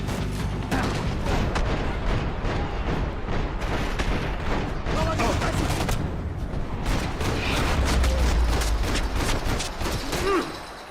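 Dense gunfire in a shooter video game, rapid continuous bursts of shots and booms packed tightly together, loud and close, with a person's voice occasionally audible underneath.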